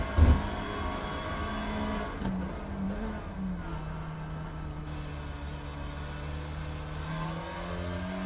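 Race car engines drone in the iRacing simulator during a TCR Championship round at Brands Hatch GP, a steady onboard engine note that climbs and drops through gear changes, with a brief thump at the start and no talk.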